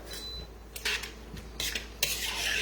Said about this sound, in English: I'm just going to give that a little stir